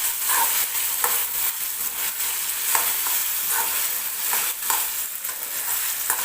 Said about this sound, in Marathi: छान असं परतून घ्यायचं परत एकदा